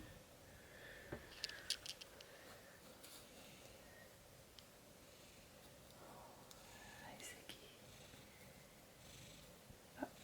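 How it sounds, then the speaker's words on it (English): A cat purring softly indoors, a faint steady rumble with a few small sniffs and rustles, while a person whispers nearby. "Purr."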